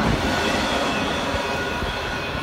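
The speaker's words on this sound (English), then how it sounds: "Very heavy train." A very heavy intermodal freight train rolls steadily past at high speed, a dense, continuous rumble and wheel roar that stays loud and close throughout with no voices.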